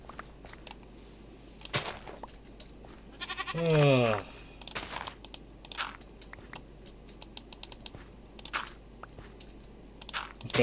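A goat in the video game Minecraft gives one loud, wavering bleat near the middle, set against steady computer keyboard and mouse clicking, with a brief murmured voice.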